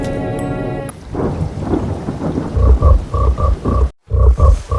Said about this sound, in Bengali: বাইরে অঝরে বৃষ্টি পড়ে চলেছে